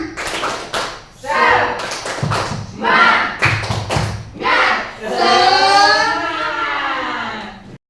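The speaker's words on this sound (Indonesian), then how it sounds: "kita tepuk semangat dulu lah" A classroom of students performs the Indonesian 'tepuk semangat' spirit clap on a counted cue, sounding rhythmic bursts of unison clapping in separated groups, ending in a longer sustained cheer with voices mixed in.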